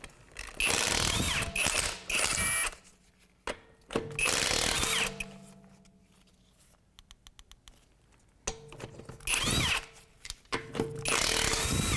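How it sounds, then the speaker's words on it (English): Bursts of a power impact tool on a 22 mm socket cracking loose a wheel nut on a 2008 Acura MDX, loud close hammering in three spells separated by a quieter gap with a short string of ticks. "we're going to take our wheel off and use a 22mm socket."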